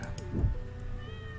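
A stray cat in the video game Stardew Valley gives a single short, close meow over a soft, steady game background.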